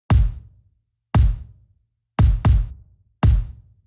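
Layered kick drums, an Oliver punchy clean kick stacked with a Make Pop Music kick, played five times with a quick double in the middle, each a thick, loud low thump with a sharp attack.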